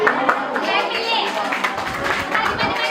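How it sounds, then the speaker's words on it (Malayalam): A classroom full of children clap their hands together in a dense, continuous patter, with young voices chattering underneath throughout. "എല്ലാവരും ക്ലാപ്പ് കൊടുത്തേ."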